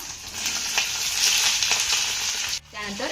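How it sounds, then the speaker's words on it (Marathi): Peanuts, curry leaves and sliced onion fry in a pan with a bright, steady sizzle and occasional stirring scrapes close by, ending in a brief pause and a fresh burst of sizzling. "शेंगदाणे आपले चांगले परतत आले की यामध्ये आपल्याला भरपूर असा कढीपत्ता घालायचा आहे त्यानंतर एक उभा चिरलेला कांदा यामध्ये घालूया"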